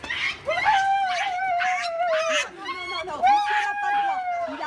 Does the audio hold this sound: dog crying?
yes